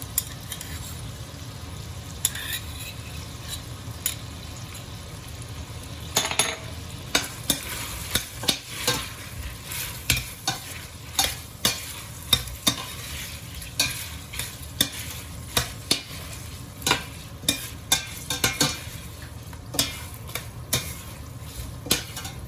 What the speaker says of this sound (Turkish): Salçayla böyle kavuracağım.